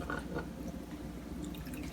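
Heated coconut milk poured from a cup into a glass bowl over chocolate, a quiet, close trickle and dripping of liquid with no talk.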